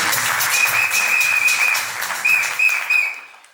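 Applause from wedding guests at a civil marriage ceremony, greeting the second witness: steady, dense clapping lasting several seconds, with a sustained whistle riding over it before the clapping fades out.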